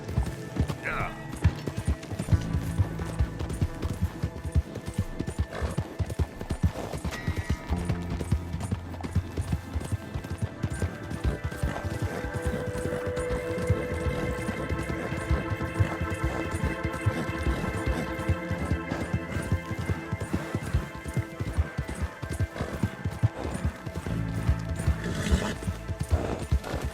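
A horse gallops with rapid, continuous hoofbeats and lets out neighs in the Western video game Red Dead Redemption 2 on PS4, loud and close throughout, with game sounds and a voice speaking over the ride.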